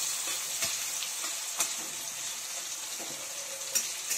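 Chopped onions, two large ones, fry in a pan for a chicken dish, giving a steady close sizzle broken by occasional clicks and scrapes of stirring.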